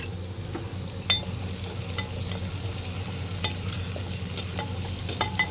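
Whole onion and garlic fry in hot mustard oil for handi chicken, a close, continuous sizzle broken by scraping stirs and small clinks, with no voices.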